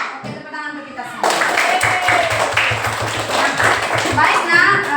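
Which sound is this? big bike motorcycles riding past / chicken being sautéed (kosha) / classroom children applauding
classroom children applauding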